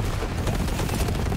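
Torque shotgun fire in the video game Borderlands 3, a dense, loud burst of blasts and explosions packed together with no pauses across the moment.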